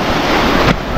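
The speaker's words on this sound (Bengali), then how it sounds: "সমুদ্রের এই গর্জনটাই সুন্দর, কি সুন্দর আওয়াজ!" Sea surf roars on Mandarmani beach, a dense, loud wash of breaking waves filling the whole moment with a brief surge near the end.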